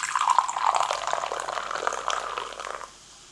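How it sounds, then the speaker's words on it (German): Chilled lemonade from a can pours into a glass, a close, steady liquid splash and fizz that runs for just under three seconds before cutting off to near silence. "Ich gieße es wie immer was in ein Glas, damit ihr die Farbe sehen könnt."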